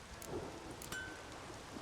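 A stormy coastal scene in The Witcher 3 video game: steady rain hisses throughout with a low rumble of thunder, faint and distant, with no talking.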